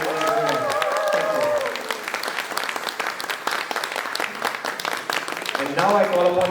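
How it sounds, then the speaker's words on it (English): An audience at an annual Bharatanatyam dance event applauds loudly and continuously, dense crowd clapping filling the hall, with a voice briefly heard over it at the start and end. "A good round of applause for them for such a beautiful performance"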